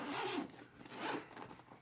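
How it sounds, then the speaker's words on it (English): A zipper being pulled open on the front pouch of a GEPRC Tiny GO 4K drone carrying case, a couple of quick rasping strokes, close and fairly quiet. "Zipper."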